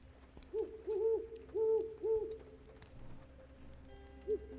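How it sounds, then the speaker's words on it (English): An owl in a horror video game hoots in a run of four quick, evenly spaced calls followed by a single later hoot, moderately loud over a faint low ambient hum. "Shut the fuck up, Owl."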